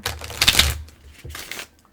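A quick riffle of shuffled cards, a crisp flurry of clicks and flaps up close, then a second shorter burst.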